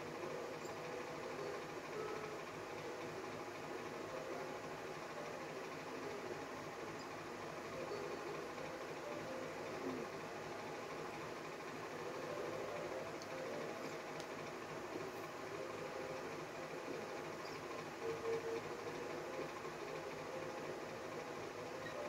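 A subway train rolls along with a steady, continuous rumble and hum filling the carriage, with faint rattles and no talk, holding even through the ride.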